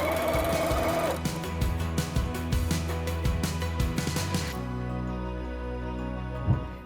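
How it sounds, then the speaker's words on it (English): A sewing machine stitches quilt binding a quarter inch from the edge, with a rapid run of mechanical needle clatter that stops, followed by a lower steady motor hum close by. "you're gonna take it to your machine and just start from the edge and sew 1/4 inch down to the next corner"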